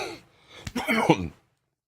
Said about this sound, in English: Got a cough today.